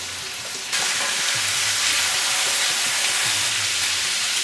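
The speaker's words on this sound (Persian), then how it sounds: "حالا وقتی رسیده که پیاز ما نرم شد یعنی که در بین روغن خود نرم شد این حالا گوشت ها رو بالای از اضافه میکنم" Lamb meat frying with softened onions in oil in a clay pot for an Afghan chainaki stew gives a loud, steady close sizzle that bursts up as the meat goes in and continues alone.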